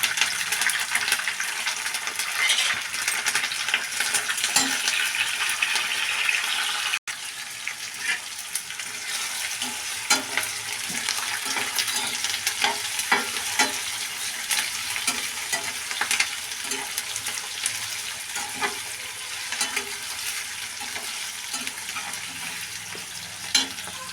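Tomato and curry leaves frying in a pan for ration rice upma, a constant crackling sizzle with intermittent stirring scrapes and clinks, close and fairly loud, no talking.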